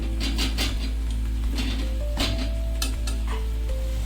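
A spoon stirs sizzling spice masala loosened with a splash of water in a pan for a chicken curry, steady frying hiss with scraping strokes and faint utensil clinks throughout.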